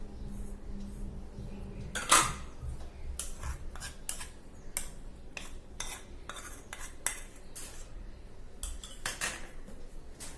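Metal utensils clink and scrape against a bowl while chicken is mixed with lemon juice and black pepper, giving steady irregular ticks and scrapes with one louder clatter near the start.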